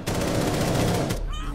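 Rapid shotgun fire in the video game Rainbow Six Siege, a dense burst of loud, close blasts lasting over a second before cutting off.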